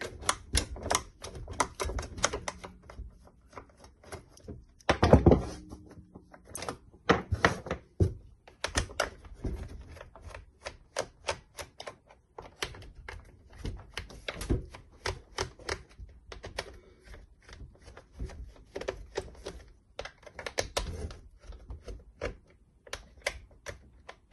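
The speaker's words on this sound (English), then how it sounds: "first thing I'm going to do is take the back off" Screws come out of the back cover of a Milwaukee HD18 CS-0 circular saw, heard as close, irregular clicking and ratcheting taps with small clatters and a louder knock partway through.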